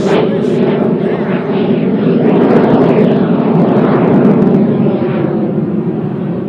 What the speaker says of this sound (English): Sounds like an F-16. F-15.